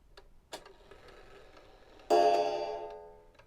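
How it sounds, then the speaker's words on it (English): A clock strikes a single chime for the half hour, a clear ringing tone that slowly fades, following soft ticking and a small click. "it'll chime 1 time, telling us that it's on the half hour"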